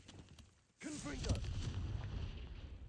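A Confringo fire spell blasts in Hogwarts Legacy, a sudden burst after a brief lull followed by a rumbling, crackling roar that sustains for a couple of seconds, with a voice calling out just before.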